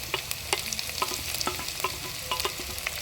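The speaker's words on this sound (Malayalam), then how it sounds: "അപ്പോൾ നമ്മൾ ഉള്ളി നന്നായിട്ട് വഴന്നിട്ടുണ്ട് ഇതിലേക്ക് നമുക്ക് ഇഞ്ചി വെളുത്തുള്ളി പച്ചമുളക്" Onions sautéing in a pan with ginger, garlic and green chili, a steady broad sizzle with repeated scraping stirs of a spoon at a fairly even rhythm, close and moderately loud, no voices.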